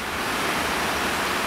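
River water pouring over a stone weir near Ynysawdre, a steady, full-bodied rushing hiss that stays even and close throughout with no voices.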